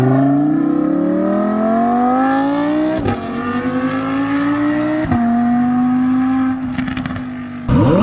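Audi R8 V10 engine exhaust note, a loud close rising wail as revs climb, broken by sharp gear-change cuts at intervals before pulling again, ending with a brief drop and burst.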